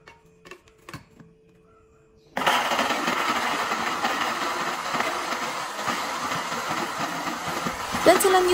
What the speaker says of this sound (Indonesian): Terakhir sebelum bumbunya di blender ada buah asam